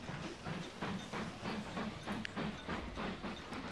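A train running in the railway-building game Mashinky, a rhythmic clickety-clack of wheels over rail joints with a steady rolling rumble, evenly paced and moderately loud, no voices.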